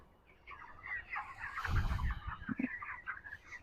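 Broiler chickens in a farm shed cluck and chirp together in a dense, continuous murmur, close by and fairly quiet, with a few sharper low clucks standing out near the end.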